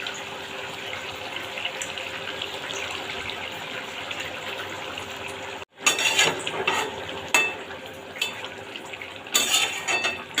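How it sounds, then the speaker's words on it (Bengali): Fish curry gravy bubbling in a pan as pieces of fish (chanda fish) are laid in one by one, a steady simmering hiss with sharper sizzling bursts and clatter after the fish goes in. "দেখুন কি সুন্দরভাবে গ্রেভিটা ফুটছে এই সময় আমি একে একে মাছগুলো দিয়ে দেবো সাজিয়ে"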